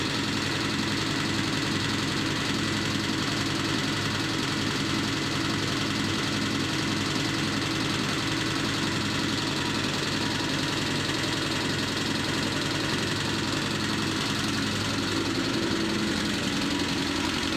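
A Suzuki RF900 motorcycle engine idles steadily while warming up and runs continuously with a rough, uneven, sputtering chug throughout.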